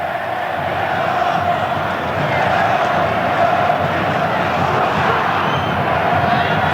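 Coritiba supporters roar in a football stadium at Couto Pereira after their side opens the scoring against Corinthians in a 2000 Copa João Havelange match, a dense, steady wall of crowd noise that holds at full volume throughout.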